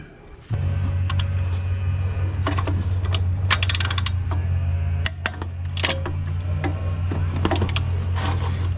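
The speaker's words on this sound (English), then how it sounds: "I can reach it all with my extension and a socket" A socket ratchet on an extension works the turbo bolts of an LB7 engine, giving bursts of close, rapid clicking against a steady low engine-bay hum, with metallic taps between the ratchet runs.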